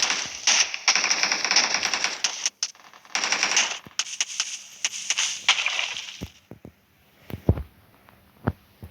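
Rapid bursts of automatic gunfire in a video game crackle in quick rattling volleys, then thin out into scattered single shots and clicks toward the end.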